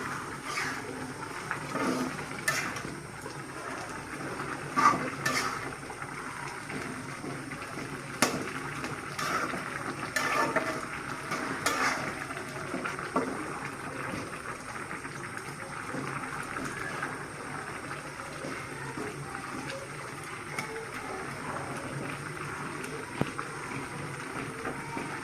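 A potato, bean seed and hilsa fish head dish is stirred in a covered pot on a low flame, giving faint scraping and bubbling with a few sharper clinks spread across a long quiet stretch.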